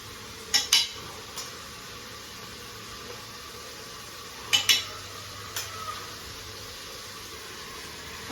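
A few sparse metallic scrapes of a spoon stirring food in a pressure cooker, close by, separated by long quiet stretches of low background hiss.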